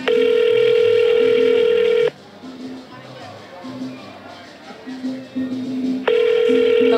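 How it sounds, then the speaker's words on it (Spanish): Telephone call ringing after a number is dialed: two long, steady electronic ring tones with a silent gap between, loud and close, while voices talk quietly in the background. "estamos marcando el número"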